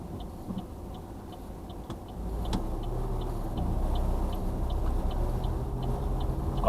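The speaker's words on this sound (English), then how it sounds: "now the bus that was pulled up has also come out behind me" A bus pulls out behind a learner's car in traffic, its low engine rumble building steadily beneath the car's own hum, with a regular faint ticking running throughout.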